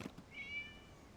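A cat meows once in the Genshin Impact video game, a short, faint, drawn-out call standing alone over quiet game ambience.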